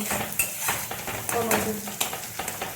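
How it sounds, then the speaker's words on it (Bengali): Chicken curry masala with potatoes and beaten yogurt is stirred and fried in a pot, a spoon scraping and clinking against the metal in repeated strokes over a low sizzle, close and busy, with a faint voice now and then. "ভালো করে সব কিছুকে মিশিয়ে নেব। ভালোভাবে 2 মিনিট কষে নেব।"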